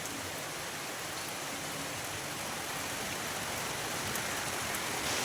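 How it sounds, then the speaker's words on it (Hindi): Steady, dense rain falls continuously, a loud even hiss of drops on surfaces with no pauses and no talking. "और यहाँ हो रही है बारिश।"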